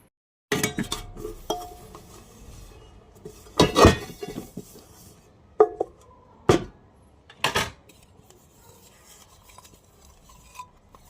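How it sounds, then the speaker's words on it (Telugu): Washed dishes and pots are handled and put away in a home kitchen, with sharp metal clanks and clinks in irregular bursts and quieter pauses between them. "ఇప్పుడు ఈ గిన్నెలు మొత్తం కడిగినవి ఉన్నాయి కదా ఈ బార్లు ఇచ్చేసేయాలి"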